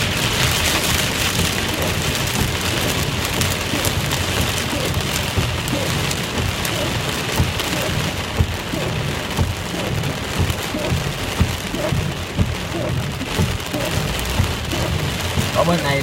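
Heavy flood-like storm rain drums on the road on the way home, a loud unbroken roar of downpour with occasional thunder-like rumbles, steady throughout with no speech.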